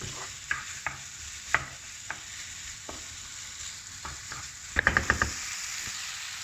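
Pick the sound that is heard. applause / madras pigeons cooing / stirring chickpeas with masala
stirring chickpeas with masala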